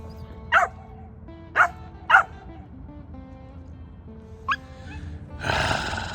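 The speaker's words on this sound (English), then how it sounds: "Puppies." Puppies yapping near a tidal lagoon bridge: several short, high barks at irregular intervals, a close pair early and a single yip later, over steady outdoor background noise with a brief rustling burst at the end.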